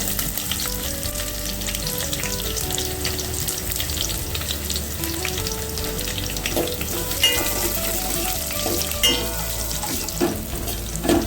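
Onions with curry leaves sautéing in a pan for a dried-fish curry, a steady close sizzle and frying hiss with stirring scrapes running throughout, no talking.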